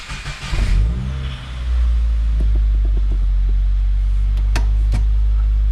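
A 2019 Subaru WRX Limited engine, tuned to Stage 3+ on E85, cranks and catches, then settles into a loud, steady low idle rumble with a few small clicks.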